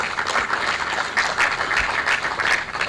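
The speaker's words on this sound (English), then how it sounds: "I think they deserve a round of applause" Sustained applause from an audience at a transparency and integrity index presentation, a broad steady clatter of many hands lasting throughout with slight swells and no talking over it.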